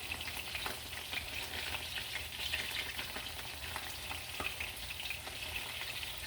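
Meat browning for stroganoff, frying steadily in a pan with a dense, close crackle and sizzle and occasional small pops, continuous and without talk.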